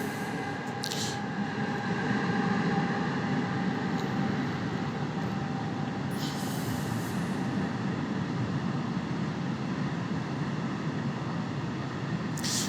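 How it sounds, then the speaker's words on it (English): A train passes by, its steady low rumble and rolling wheel noise holding at an even, fairly loud level throughout, with a couple of brief hissing bursts like air brakes. "There's a train passing by"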